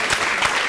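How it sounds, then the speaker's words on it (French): Audience applause in a studio talk show, a steady wash of many hands clapping at even loudness across the short stretch, without talk over it. "On va l'applaudir, s'il vous plaît."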